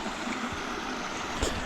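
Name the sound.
small waterfall flowing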